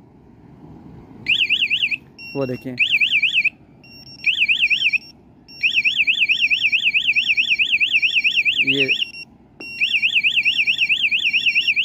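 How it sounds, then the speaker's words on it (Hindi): A loud electronic motorbike anti-theft alarm speaker siren warbling in rapid repeating bursts with short gaps, plus a few brief chirps, while a person speaks briefly. "अलार्म अगर आपने लगाया हुआ है स्पीकर, तो उसमें भी आपको आवाज़ आती है"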